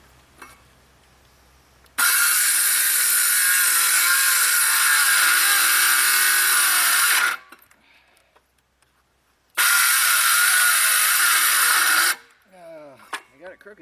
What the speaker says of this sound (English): I'm going to use the reciprocating saw to finish it.